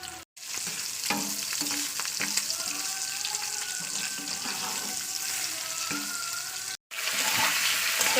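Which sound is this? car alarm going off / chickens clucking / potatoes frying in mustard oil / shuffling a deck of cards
potatoes frying in mustard oil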